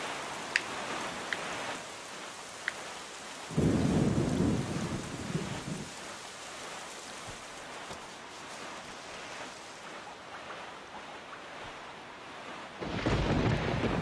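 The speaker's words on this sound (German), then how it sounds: "Die Stürme sind echt gefährlich, wenn wir zu nah rankommen." Thunderstorm with rain at sea in Zelda: The Wind Waker HD, a steady rain hiss broken by loud thunder crashes near the middle and again at the end.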